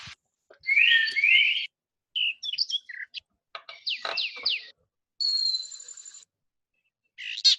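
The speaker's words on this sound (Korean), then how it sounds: "새가 지저귀는 소리고" Real outdoor recording of birds chirping: clear, close, bright tweets and trilled phrases arrive in separate bursts with quiet gaps between them, no other sounds present.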